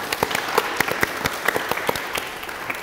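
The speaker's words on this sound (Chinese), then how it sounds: "大家听到这个热烈的掌声就知道我们现场也是有来宾的哦" A studio audience of high school students claps in a TV science program, giving fairly sparse, irregular applause with individual claps clearly separable, close and moderately loud.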